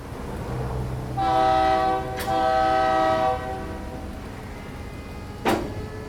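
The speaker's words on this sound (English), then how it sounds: "the train's moving" Rail noise with two long, loud horn blasts close together, followed by a sharp clunk later on; steady rumble underneath, no voices.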